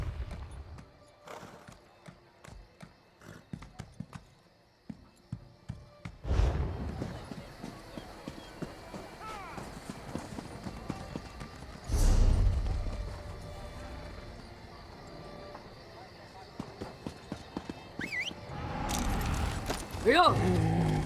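Horse hooves clip-clop in The Elder Scrolls Online video game, a rhythmic run of hoofbeats with engine-like rumbles and other game sounds mixed in.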